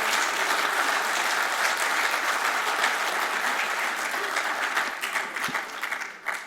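Sustained applause from an audience at an economics and politics panel, steady and dense throughout, thinning slightly toward the end.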